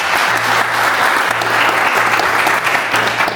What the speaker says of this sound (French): Je veux applaudir parce qu'il n'y a eu que de la réussite.